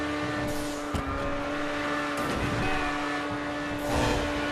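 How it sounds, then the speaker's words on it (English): A Grotti Itali GTO sports car in GTA Online roars at top speed with a steady high engine drone, passing traffic whooshing by, no talk. "This is by far the fastest car."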